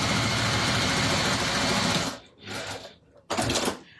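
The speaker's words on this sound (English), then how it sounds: "So let's just line that up, and we'll stitch down here." A sewing machine runs a steady, fast whirring stitch along a bag seam with a quarter-inch allowance, then stops and gives two short bursts, close by.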